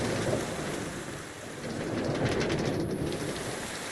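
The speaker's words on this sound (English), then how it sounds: "Oh, and now it started raining." Steady rain pours in a Minecraft world, a dense hissing downpour with low rumbling underneath, continuous and fairly loud throughout with no voices.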